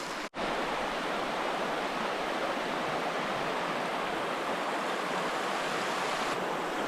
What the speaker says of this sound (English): One of the most beautiful streams, rivers, places I've ever fished and seen.